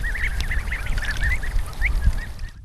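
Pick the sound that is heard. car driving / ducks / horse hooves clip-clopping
ducks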